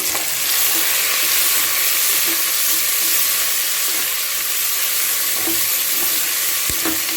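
Onions, green chilli and garlic fry in a pan, giving a steady, dense sizzle with a few faint stirring clicks near the end, loud and close with no talking.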